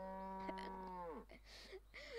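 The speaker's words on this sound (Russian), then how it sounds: "Эй, стой, корова." A cow in a video game lets out a loud, drawn-out moo that slides downward at the end, followed by a couple of shorter game sounds over a steady background hum.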